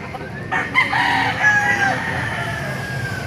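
Chickens at a Baliuag market, including a black hen, cluck and a rooster crows loudly nearby, the crow rising and falling over a busy background.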